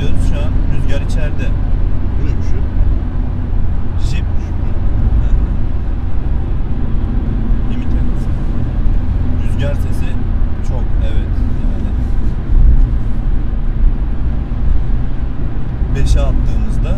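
Steady wind roar and tire noise inside a moving Renault Symbol 1.5 dCi 90 hp compact sedan on winter tires at 110 km/h on the highway, a constant loud broadband rumble with a voice talking over it.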